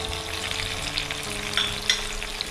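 Curry leaves fry with tomato and masala in a pan for chicken chukka, a steady close sizzle broken by a few sharp crackles and pops.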